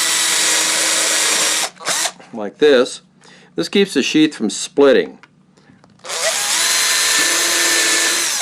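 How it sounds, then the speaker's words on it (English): A power drill bores holes in a knife sheath, whirring loudly and close for a couple of seconds, stopping while someone talks, then running again in a long steady burst. "Now I like to put a little reinforcement in the sheath by drilling a couple of extra holes"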